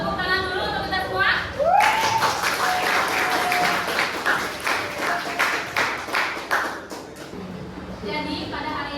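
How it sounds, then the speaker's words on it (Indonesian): Students in a classroom break into a burst of clapping that swells and carries on for several seconds before fading, with a teacher's voice heard before and after and a few voices over the applause. "tepuk tangan dulu untuk kita semua."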